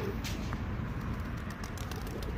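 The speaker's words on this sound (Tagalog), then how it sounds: "Good job, pigeon." Street pigeon in an urban outdoor setting, soft cooing and wing flutters close by over steady low traffic and city background noise, with no talking.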